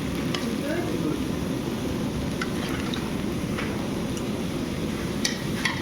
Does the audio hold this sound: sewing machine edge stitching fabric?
no